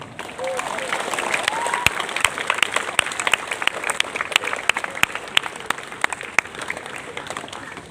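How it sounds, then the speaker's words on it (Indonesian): Audience applause fills a school ceremony marking National Santri Day, a steady dense clapping with sharp individual claps standing out, sustained throughout at moderate loudness with voices mixed in. "Tepuk tangan untuk kita."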